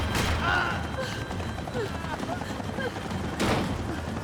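Gunfire in Max Payne 3, with scattered shots and thuds amid mechanical clatter and a sharp burst near the end, under shouted voices.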